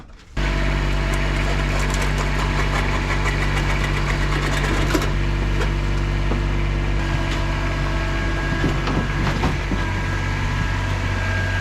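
An abandoned Mercedes Ponton's engine starts up and idles loudly and steadily, with a rough knocking rhythm and a constant low drone, and no one speaks over it.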